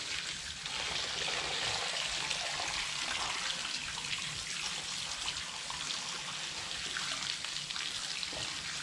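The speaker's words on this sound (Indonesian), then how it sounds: "kita siram yang bagian-bagian yang bisa terlepas" Water poured onto a potted plant in fresh growing media, a steady close splashing and trickling hiss lasting the whole span with no talk.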